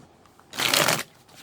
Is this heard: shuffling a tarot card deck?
yes